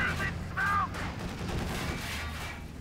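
Gunfire in Company of Heroes 2 rattles through a battle as infantry are cut down, with bursts of shots over a low rumble and brief chirping tones.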